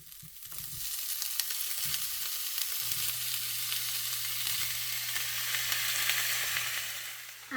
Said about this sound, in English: After a couple of minutes of frying up the veggies, we're adding in the meat.